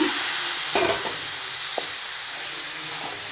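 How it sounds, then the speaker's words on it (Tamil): Chickpea sundal with grated coconut sautéing in a hot pan, a steady soft sizzle and hiss broken by a few light scrapes and knocks of stirring. "தேங்காய் பூ சேர்த்து நல்லா வதக்கிங்க வேக வச்சு சுண்டலை சேர்த்துங்க"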